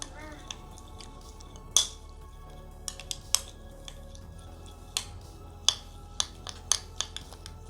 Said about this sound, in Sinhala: හොඳට කලවම් කරගන්න ඕනේ.